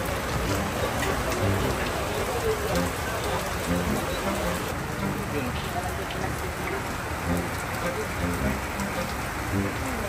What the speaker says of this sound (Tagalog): Lakas ng ulan, timing.